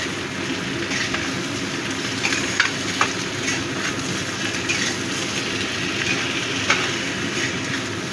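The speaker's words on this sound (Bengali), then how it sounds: "ভালো করে মিশিয়ে দেবো।" Prawn malai curry stirred in a pan, a steady sizzle and bubble with soft scraping and a few sharp clinks of the spoon, close and continuous with no talking.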